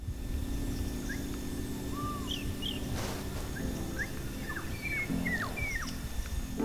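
Birds sing outdoors at sunset, scattered short chirps and whistles from several birds at moderate distance over a quiet background hum.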